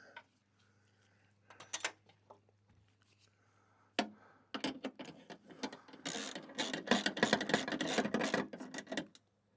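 A coolant level sensor is tightened by hand, giving quiet scattered clicks and scrapes that build into a rapid ratcheting burst of close mechanical clatter.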